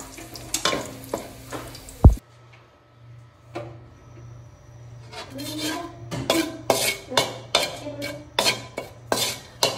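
Garlic frying in a pan for pancit canton, a steady sizzle broken by scraping stirs and clinks of a utensil against the pan, with a sharp knock near the start and busier stirring toward the end.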